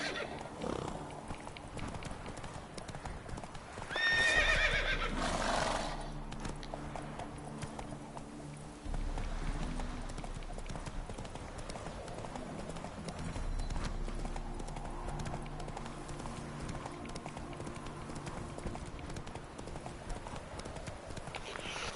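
Geralt's horse Roach from Witcher 3 clip-clops at a gallop through most of the stretch, with a neigh partway in, while someone speaks over the hoofbeats and game background.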